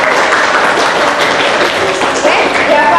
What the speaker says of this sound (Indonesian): Tepuk tangan buat temannya.